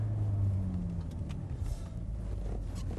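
A Mercedes-Benz 190E 2.3-16 engine hums low and close as the car makes a U-turn at a bus interchange, with a short falling tone at the start and a steady muted rumble after.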